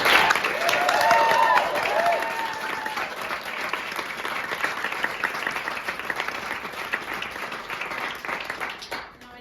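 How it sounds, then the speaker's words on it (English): A comedy-club audience claps after a stand-up set ends: steady, dense applause that starts loud and gradually thins out, with some crowd voices mixed in. "I know you just finished clapping"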